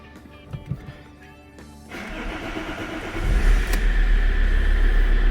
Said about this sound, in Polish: sukces auto odpalone